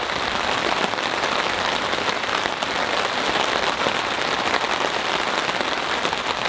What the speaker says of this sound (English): Quite a bit of lightning, a lot of rain.